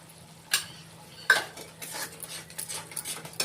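A utensil scrapes and stirs a mustard-poppy seed masala frying in a pan, with a few sharp clinks against the metal and a soft sizzle underneath. The sound is close and fairly quiet.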